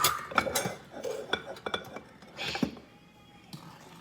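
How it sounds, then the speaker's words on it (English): A utensil clinks and scrapes against a cast iron dutch oven while sugar and butter are stirred, a run of close metallic taps and rubbing strokes that fades out near the end. "stir it around till the sugar and the butter are dissolved"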